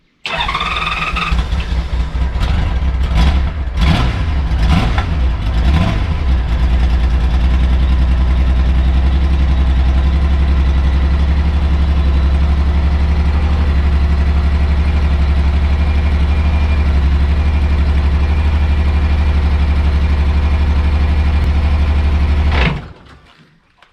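A 1988 Honda Goldwing GL1500 motorcycle, back running after sitting outside for 21 years, cranks over with a few sputtering turns, catches, and settles into a loud, steady close-up idle for about twenty seconds before cutting off abruptly.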